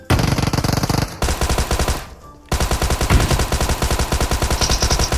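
Loud bursts of rapid automatic gunfire rattle off in dense runs, cut by a brief lull near the middle before the firing resumes just as hard.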